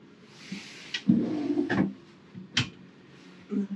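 A kitchen drawer in a Bailey, Bürstner or Swift motorhome slides and knocks shut, several short close thuds and rattles over a few seconds, fairly quiet.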